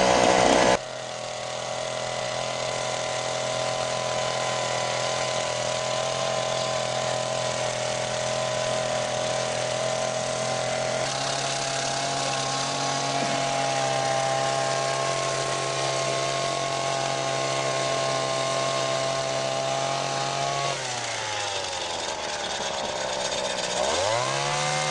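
A bunker edger machine for trimming golf course sand bunkers runs at full throttle, a loud, steady engine drone with a chainsaw-like whine that holds nearly constant throughout, dipping and revving briefly near the end.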